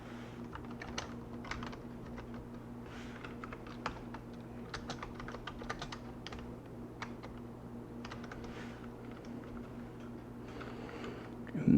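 Steady computer keyboard typing while code is written in a programming environment, a continuous run of close, quick keystrokes with a constant low electrical hum underneath and no talking.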